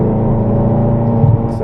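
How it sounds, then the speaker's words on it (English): A Ferrari California accelerating hard on the Rockingham track, its engine giving a steady, loud, close-up drone with a slight rise in revs near the end, heard alone without talk. "get the wheel straight and accelerate hard over to the left hand side"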